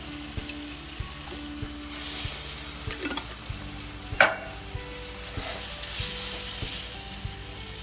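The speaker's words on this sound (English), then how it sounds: "we're just gonna let that simmer for a few minutes" Classico Alfredo sauce simmers in a pan with a soft, steady sizzle and small bubbling ticks, plus one sharp utensil clink partway through.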